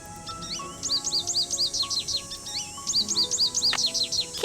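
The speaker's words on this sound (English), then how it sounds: "Well, that sounds like a bird noise." Birdsong in the Nancy Drew: Ghost Dogs of Moon Lake game, rapid repeated high chirping phrases in two bursts over a faint ambient background, moderately close with no talk.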